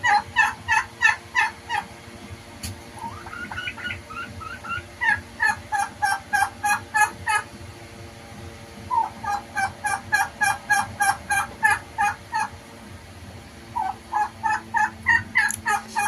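Turkeys on a farm in Ullapara, Sirajganj, Bangladesh, gobble again and again in rapid rattling bursts, several calls overlapping nearby, with brief pauses between volleys.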